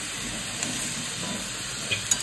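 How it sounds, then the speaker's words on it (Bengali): Whole onions, three of them, hiss and sizzle steadily in a pot of chicken stew, a constant close frying noise with a couple of faint clinks near the end. "আর এখন দিয়ে দিচ্ছি গোটা পেঁয়াজ 3টা।"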